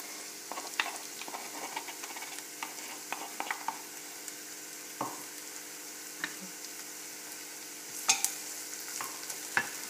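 Crushed garlic and onion fry gently in a pan, a quiet continuous sizzle with light scattered clicks and scrapes from stirring.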